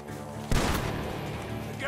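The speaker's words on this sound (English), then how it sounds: "Gunshots are coming from that barn!" Gunfire from a barn in the video game Red Dead Redemption 2, a sudden sharp blast followed by rattling, echoing shots that trail off, fairly faint and brief.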